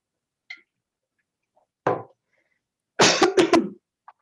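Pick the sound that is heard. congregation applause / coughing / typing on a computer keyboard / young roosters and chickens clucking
coughing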